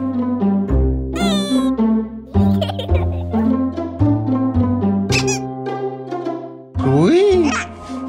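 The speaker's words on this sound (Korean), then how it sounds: "아이고, 고양이 있네?" A cat meows several times up close, in varied squeaky and drawn-out calls, with a person's voice mixed in.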